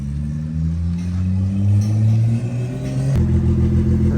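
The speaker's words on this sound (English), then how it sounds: "So he's just test driving it right now." A BMW with an N55 engine, fitted with a new crankcase breather, revs and accelerates on a test drive, its engine note climbing steadily in pitch before a sharp clunk and a drop back to a lower drone.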